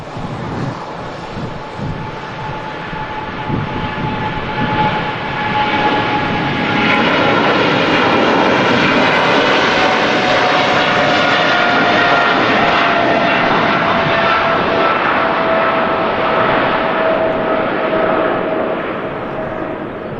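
A nearby Etihad Boeing 777-300 jet at Manchester Airport roars loud and steady, building within the first few seconds and holding a broad engine rumble with a whining tone, mixed with wind buffeting the microphone.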